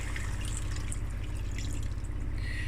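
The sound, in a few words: water added to mutton curry pot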